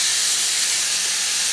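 Ridge gourd and potato pieces sizzle in hot oil in a pan, a steady, close, bright hiss that fills the whole short moment without any voice.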